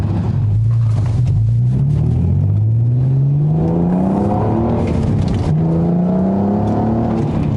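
An Audi TT on the road, engine note rising in pitch through repeated accelerations with a gear change midway, loud and close from inside the car, no talk.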